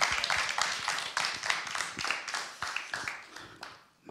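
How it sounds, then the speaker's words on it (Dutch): At a film festival award ceremony a small group claps enthusiastically, individual hand claps clearly distinct in a quick uneven rhythm, fading out near the end. "En een heel groot applaus voor Amar en zijn moeder en Uniek."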